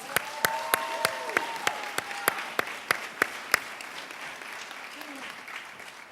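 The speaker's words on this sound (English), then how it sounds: "Please give all the students another round of applause." Scattered audience clapping at a scholarship event honoring students, sparse individual claps spaced in a slow rhythm that thin out and fade, with some talking and murmur underneath.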